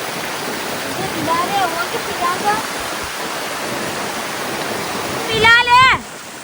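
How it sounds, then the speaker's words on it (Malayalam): A forceful waterfall on a trek near Manali throws out spray with a loud, continuous rushing hiss close by. A brief voice rises over it near the end. "കണ്ട പുക പോലെ വെള്ളമാണ് തെറിച്ച് വരുന്നത്. നല്ല ഫോഴ്സ് ആട്ടോ വെള്ളത്തിൻ്റെ."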